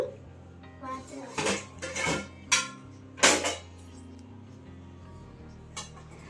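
A child washes dishes at a kitchen sink, with several clattering knocks and clinks of pots and utensils coming in separate bursts and then going quiet, while voices are heard faintly.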